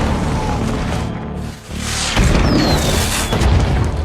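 Gunfire in an action film about armed attackers storming an embassy: heavy booming shots crack out loud and close, two sharp bursts over a dense rumbling mix of battle noise.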